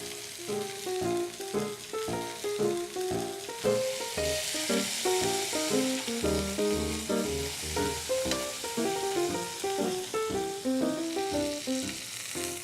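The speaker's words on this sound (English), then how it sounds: "We're going to sear all 4 sides and then move it to the oven" Meat sears in a hot pan, a continuous close sizzle and crackle with pulsing fry noise throughout, no talking.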